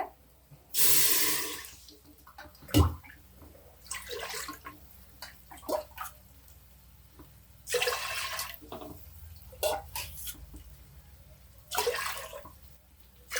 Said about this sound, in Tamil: மொத்தம் 5 டம்ளர் தண்ணி ஊற்றிருக்கேன்.